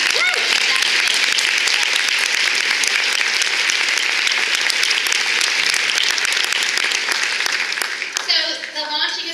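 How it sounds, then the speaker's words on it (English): Audience applause at a baby-charity tea event, loud sustained clapping from a large crowd that stays dense for most of the stretch before thinning out near the end. "you should clap"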